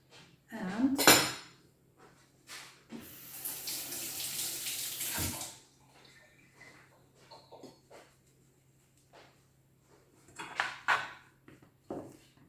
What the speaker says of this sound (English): And then we're mixing it.